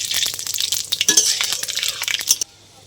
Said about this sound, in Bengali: এখানে দারচিনি, শুকনো লঙ্কা, এলাচ আছে, দিয়ে দিলাম। পাঁচফোড়ন দিয়ে দিলাম